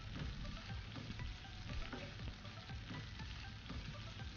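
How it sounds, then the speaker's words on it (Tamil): Steady, close sizzling and crackling of onions frying in butter in a pan, continuous throughout with no voices. "இதில் நம்ம கட் பண்ணி வச்சுருக்க வெங்காயத்தை ஆட் பண்ணிக்கலாம்."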